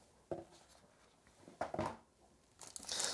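Quiet crinkling and tearing of a Razer BlackWidow Pro 75 V4 keyboard's packaging in a few short bursts, close by, with rustling growing busier at the end.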